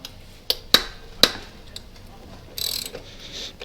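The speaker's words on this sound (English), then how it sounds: "So we're going to grab a 19 mil, we're going to loosen off this nut." A 19 mm wrench loosens a nut on a Yamaha TTR110 dirt bike: three sharp metallic clicks in quick succession, then a softer scraping rasp, close up with no talking.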